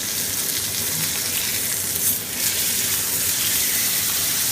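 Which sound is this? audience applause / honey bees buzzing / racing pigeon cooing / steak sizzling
steak sizzling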